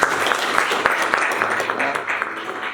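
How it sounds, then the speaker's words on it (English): Audience at a graduation ceremony clapping, a moderate steady patter of many hands with a few sharper claps, somewhat distant. "Can you clap for them?"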